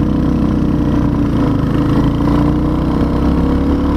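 A 2023 Royal Enfield Hunter 350 motorcycle engine runs hard and steady while accelerating, a loud continuous mid-pitched drone with slight rises in revs, close to the listener and no talking.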